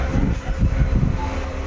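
A train rolls past at close range in Rameswaram, a heavy low rumble with rhythmic surges of wheel noise across the short stretch, with no talking.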